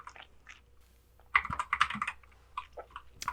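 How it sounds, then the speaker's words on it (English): Typing on a computer keyboard while entering database fields: short bursts of close, crisp key clicks, sparse at first and then a quicker run of taps, with no voice. "We're going to type in the position,"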